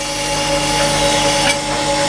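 Steady, loud grinding wheel working a metal collet block, a continuous abrasive whine with ringing tones, no talk.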